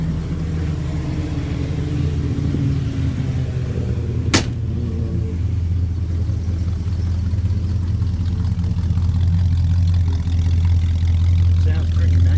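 A cold 1970 Ford LTD engine idles just after starting, a steady, close low rumble with a single sharp click partway through and a faint voice in the background.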